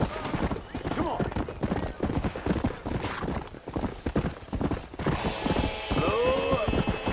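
Horse hoofbeats gallop steadily in the Red Dead Redemption video game, a dense rapid clip-clop close up, with a whinny and game sounds toward the end.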